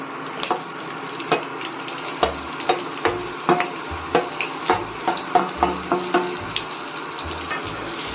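Onions and green chillies frying for veg biryani, a steady sizzle with repeated scraping stirs and clinks at a fairly even rhythm, close and without talk.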